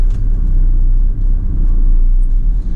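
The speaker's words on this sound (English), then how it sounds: "let's get the engine started up" Ford Transit double-cab tipper truck from 2008 with its diesel engine running, a steady low rumble of idle heard close and loud, with a few faint clicks and no talking.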